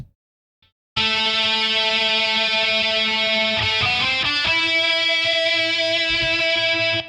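Double-tracked lead electric guitars ring out through a high-gain amp, a sustained distorted melody panned slightly left and right, loud and dense after a brief silence.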